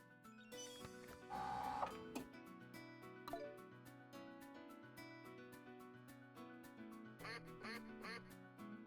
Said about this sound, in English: Oh, is this a duck race?